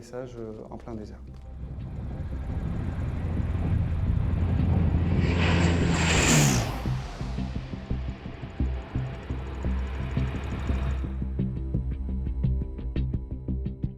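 A fixed-wing military transport aircraft weighing about 50 tons comes in to land at roughly 200 km/h on a desert strip, its loud engine roar building steadily and peaking mid-way, with a voice talking over it.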